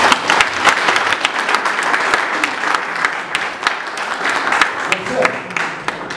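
A church congregation applauding the Lord, dense sustained clapping from a crowd that fills the whole stretch, loud and close.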